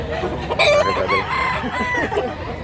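A chicken clucks and crows loudly and close by, its calls rising and falling continuously with no talking.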